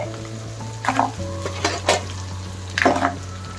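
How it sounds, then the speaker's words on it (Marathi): Crabs hit hot tempering spiced with ground green masala for an Agri-style crab masala, setting off a steady sizzle with a few scraping stirs and clinks of the pan over a low hum. "आता या फोडणीत हे खेकडे घालायचे"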